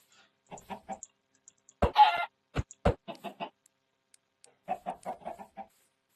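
Short bursts of hen clucking from Minecraft, a few clucks at a time with quiet gaps, plus one louder squawk and sharp clicks.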